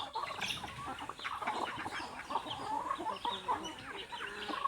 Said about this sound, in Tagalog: Yan po yung ating mga alagang manok. Nagkakayabay sila.